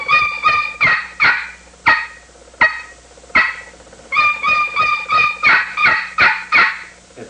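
A handmade Morgan's turkey call plays a begging hen sequence: loud, close, raspy yelps in quick bursts, first spaced apart, then run together in a rapid pleading series.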